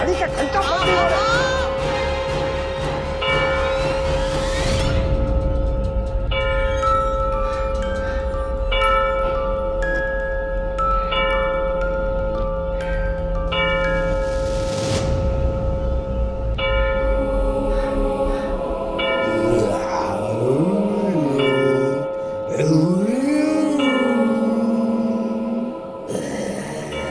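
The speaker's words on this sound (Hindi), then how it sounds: "अरे घड़ी का घंटा बंद नहीं हो रहा।" A clock bell rings on and on without stopping, sustained tonal chimes filling the scene under music and a crowd-like bustle, with excited voices speaking over it in a comedy series.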